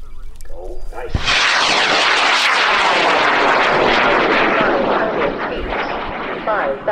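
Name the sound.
high power rocket launching and climbing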